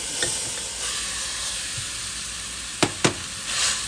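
Beef sizzles in a pot as chili cooking begins, with a constant soft hiss of frying. A few sharp clacks of a utensil against the pot come near the end.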